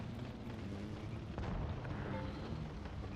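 An Object 704 tank cannon firing in the game World of Tanks Blitz, heard as a single deep blast partway through over a constant, heavy rumbling battle din.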